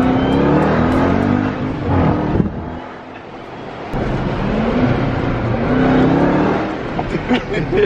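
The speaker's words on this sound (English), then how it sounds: "I love how it whines like that." A fast car's engine whines loudly and up close as it accelerates hard, the pitch climbing, easing off briefly, then rising again in a second surge.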